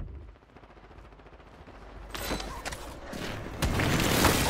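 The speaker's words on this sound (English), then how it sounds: "Hostile airstrike near your location." Airstrike explosions and bursts of gunfire in the video game Warzone on Rebirth Island, starting faintly, then rising into a dense run of sharp, loud blasts and shots over the last two seconds.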